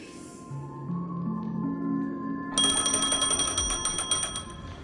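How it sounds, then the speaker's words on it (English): A phone in the Honkai: Star Rail video game rings with a bright, rapid trill that starts about halfway through and keeps going, layered over soft background music. "Oh. A phone."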